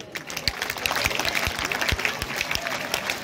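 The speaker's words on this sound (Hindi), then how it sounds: "तालियां आपकी तरफ से बजवाना चाहता हूं" Clapping from the crowd at a school ceremony honouring students in Sujangarh comes as a brisk, close, busy patter with a few heavier claps. It carries steadily through the short stretch.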